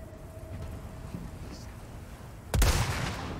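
A rocket launcher fires in the Resident Evil 4 Remake video game, one sudden loud booming blast with a rushing tail, breaking through a low ambient rumble.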